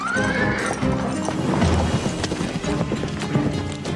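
Horses neigh and whinny while hooves clip-clop on the ground, a sharp whinny up front followed by steady hoofbeats and scuffling movement, fairly close and loud.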